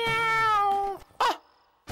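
A cat gives one long, drawn-out meow lasting about a second, close and fairly loud, followed after a pause by a shorter, rougher cry.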